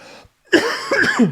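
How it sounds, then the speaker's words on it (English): A single sharp cough bursts out close by after a brief pause, followed by a short voiced throat sound. "there's the cough"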